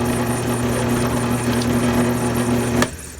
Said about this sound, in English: I started out with a pilot bit, and with nice consistent pressure on stainless, it's good to always keep the bit moving.